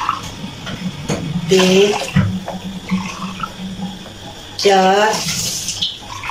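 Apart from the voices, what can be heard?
glasses of beef yakhni broth being poured into pot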